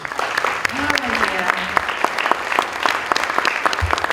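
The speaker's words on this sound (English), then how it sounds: "a big round of applause for you too" A large audience at an evening music event applauds healthcare professionals, a dense steady wash of clapping with a voice speaking briefly underneath and a short low thump near the end.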